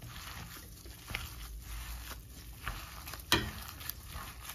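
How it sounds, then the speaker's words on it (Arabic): Meatballs frying in a tagine give a quiet, steady sizzle with soft stirring scrapes and one sharper clatter, close by and with no talk. "ونخليها تتقلى"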